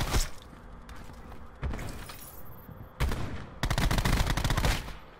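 Rapid bursts of gunfire from a Call of Duty Black Ops 4 match, loud and close, with automatic fire in clusters separated by brief pauses and a dense sustained volley toward the end.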